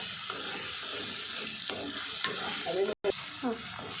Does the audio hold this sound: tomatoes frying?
yes